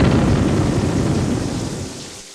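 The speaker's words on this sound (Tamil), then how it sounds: "நல்ல மழை." Heavy cartoon rain and rolling thunder make a loud, dense roar that fills the whole stretch and fades slightly at the end, with no talking over it.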